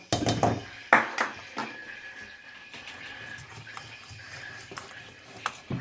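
Keto cheesecake ingredients are mixed in a bowl close by, with a few sharp utensil clinks and scrapes at the start, then quieter intermittent stirring taps.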